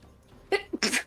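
A single person sneezes close by, a short breathy intake followed by a sharp burst, in an otherwise quiet room.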